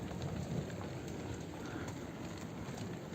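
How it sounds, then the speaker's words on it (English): Rain patters steadily during a thunderstorm, a faint, even hiss with soft low rumbling underneath, no voices. "Oh, thunder and lightning."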